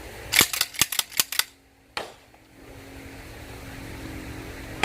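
An NTS Commando pump-action shotgun fires in a quick burst of several sharp, close cracks, then one more shot, leaving a low hum behind.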